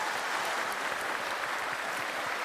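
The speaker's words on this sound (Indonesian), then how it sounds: "Tepuk tangan dong, tepuk tangan" Steady, dense clapping from a studio audience at an Indonesian televised talk show, loud and unbroken throughout with no voices over it.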